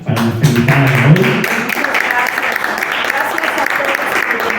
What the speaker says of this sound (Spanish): un fuerte aplauso para nuestra invitada de hoy